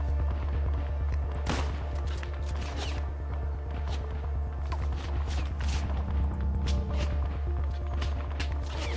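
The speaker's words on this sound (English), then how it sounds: "I finally tune into some friendly gunfire to my north" Distant friendly gunfire crackles near a communications tower in the World War II–themed video game Arma 3, sharp scattered shots over a constant low rumble of ambience.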